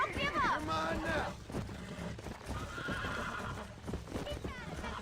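A horse in Red Dead Redemption whinnies loudly near the start, amid hoofbeats and the horse's struggling as a rider breaks it in, with voices talking over the commotion.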